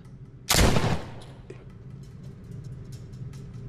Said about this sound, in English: I'm surprised nobody else is hearing these gunshots.